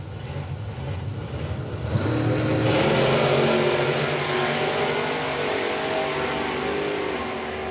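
Engines roar at a drag strip as a Cortina estate and a supercharged big block Malibu make a run, the sound swelling from a rumble into a loud, sustained blast that stays strong to the end.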